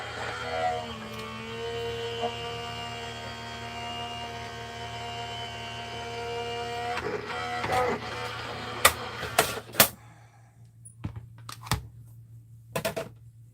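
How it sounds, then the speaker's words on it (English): An electric die-cutting machine runs a folder through with a steady motorized hum and whir, then stops, followed by several sharp handling clicks and taps, close and fairly quiet. "I'm going to be running it through my electric machine."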